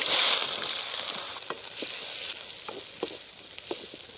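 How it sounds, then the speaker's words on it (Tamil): Chopped onions hit hot oil with mustard seeds for a village-style karuvattu kulambu, giving a loud hiss at first that settles into a steady sizzle with scattered small pops and crackles. "கட் பண்ணி வச்ச வெங்காயம் சேர்த்துக்கலாம்"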